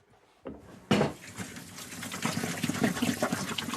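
Running kitchen tap water, a gush starting abruptly after a couple of soft clicks, then a steady splashing stream into a sink with slight dish clatter, close and fairly loud.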